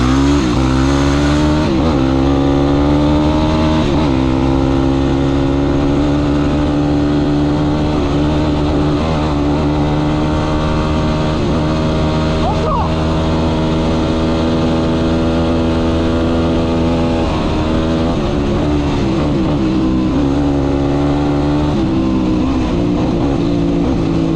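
A quad bike engine roars steadily and loudly up close, its pitch rising and dropping as it accelerates through the gears.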